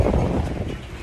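Strong desert wind of around 40-50 km/h during a sandstorm on a rural desert road toward Saudi Arabia roars in a dense, steady rush of buffeting noise, loud and continuous, with no voices.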